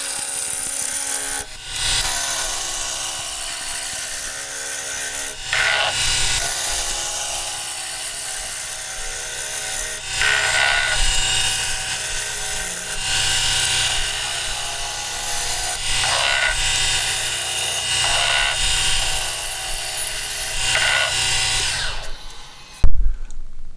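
Wooden cylinder for a fancy wig stand spinning on a woodturning lathe as a tool scrapes and rasps it round, a steady loud grinding with brief pauses between cuts, ending in a few knocks.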